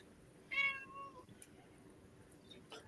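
A cat gives a single short, clear meow close by in a quiet room, followed by faint rustling and no talk.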